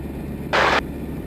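Vintage de Havilland Chipmunk DHC-1 engine heard from inside the plane in flight: a steady, close low drone with a brief, loud burst of hiss partway through.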